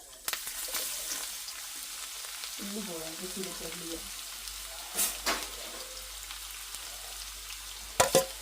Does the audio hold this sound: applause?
no